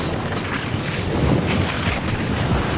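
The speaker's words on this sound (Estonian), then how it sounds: "Ja ma surfan praegu õhus." A gusty, rushing whoosh of air accompanies surfing through the air in the video game Fortnite, heard as a steady, loud wind roar throughout.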